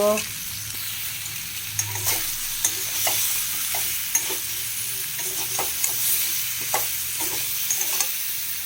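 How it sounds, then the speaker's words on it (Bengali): Pieces of pointed gourd sizzle in hot oil in a pan, with a spatula scraping and knocking at a quick, uneven pace over a constant close hiss. "এবার পটলগুলো একটু ভালো করে কষে নেব"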